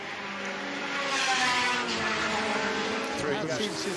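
Historic racing cars thunder into Madgwick corner at Goodwood's Members' Meeting, engines roaring loudly and continuously as they pass close by, with a commentator talking over the noise.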